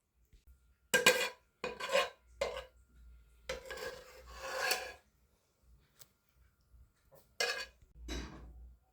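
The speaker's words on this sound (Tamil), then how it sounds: "இப்போ வந்து இந்த சாதத்தில் புளி பேஸ்ட்டை வந்து போட்டு கலந்து விட்டுக்குவோம்." A spoon works tamarind paste through cooked rice in a metal vessel for puliyodharai, producing irregular bursts of scraping and rubbing strokes with short pauses, close up and moderately loud.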